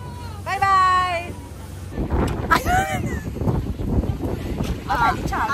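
A longtail boat motor drones on the water near Phuket, heard through gusty wind buffeting the microphone, with people talking and a whistling, whining tone near the start.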